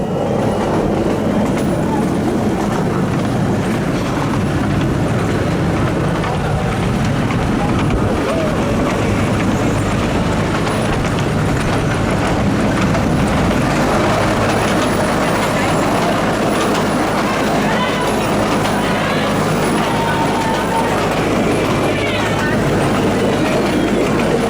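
A theme park train ride at Pleasurewood Hills rolls along with a continuous close rumble and rattle of the cars on the track, with voices talking over it throughout.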